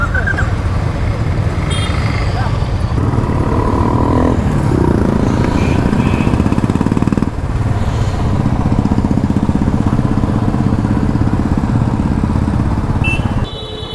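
Several motorcycles idle together before a Sunday classic group ride from Ranchi, a steady low engine rumble running throughout with brief revs, while people talk nearby.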